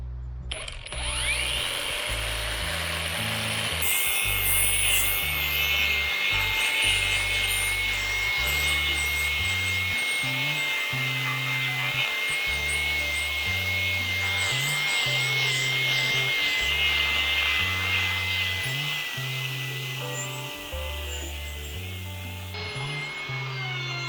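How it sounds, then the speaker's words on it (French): A power sanding disc grinding across a wooden frame member during timber-frame self-build work, a steady close whirring rasp with shifting pressure that runs continuously, with no voices. "On a coupé la première à 5 mètres et là, on est en train de poncer."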